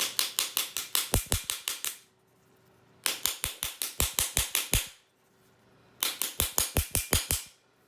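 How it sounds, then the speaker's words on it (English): Rapid bursts of sharp metallic taps around a stainless steel bath bomb mold, compressing an all-natural bath bomb, come close and clear in three quick runs of about ten strikes each, with short pauses between. "I tap all around to compress my bath bomb"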